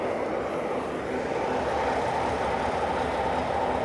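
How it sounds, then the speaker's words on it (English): Steady, heavy rumbling roar of a large diesel train running continuously in the background at an outdoor car show, with a broad, unchanging drone and no distinct voices over it. "There's a big noisy diesel train over there."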